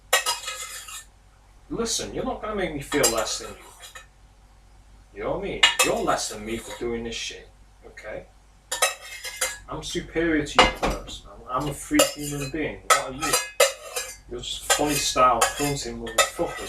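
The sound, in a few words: scraping food with cutlery in a pan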